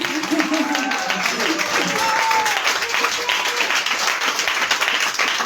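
A live audience claps for the musicians after a French children's song performance, a dense continuous round of applause with faint voices threaded through it.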